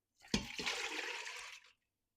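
Beef broth made from Better Than Bouillon paste and water is dumped from a jar into an Instant Pot, a single splashing pour of about a second and a half that cuts off abruptly.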